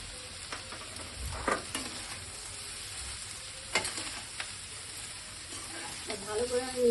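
Fried rice with chicken and vegetables stirred in a pan, a soft continuous sizzle broken by occasional scraping strokes of a spatula, fairly quiet and close, with no talk over it.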